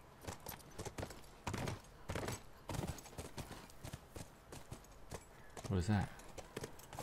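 Horse hooves clip-clop in The Last of Us, a steady run of near hoof beats under a voice that speaks briefly.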